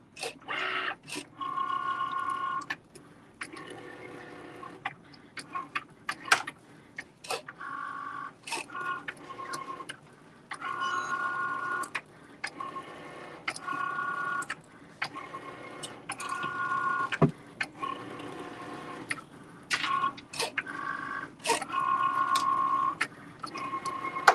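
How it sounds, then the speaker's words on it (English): A Cricut machine cutting fabric: a motor whirs in stop-start bursts, with rapid mechanical clicks and a faint whine that keep pausing and resuming. "This is all I use my Cricut machine for, is to cut my fabric."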